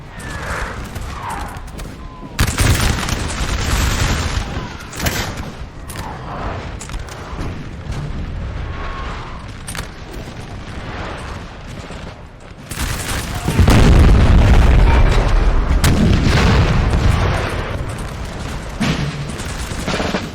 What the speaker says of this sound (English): And look at all the artillery massed up here.